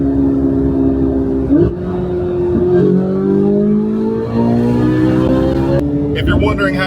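A straight-piped Chevrolet Corvette C8 Z06 V8 revs up close, its loud exhaust note climbing and falling through several pulls before cutting off sharply, with a voice speaking over it.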